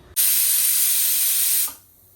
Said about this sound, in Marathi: चार शिट्ट्या होऊ देणार आहे